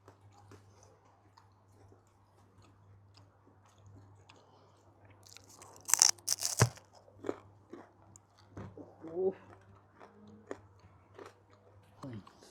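Crunching bites of tandoor-baked roti in an outdoor setting, a few sharp crisp bites and chewing sounds near the microphone, with quiet voices and a steady low hum underneath.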